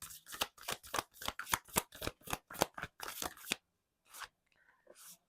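Tarot cards are shuffled in quick, crisp riffling bursts, a dense rapid run of papery flicks close by, then a pause and a couple of softer shuffles.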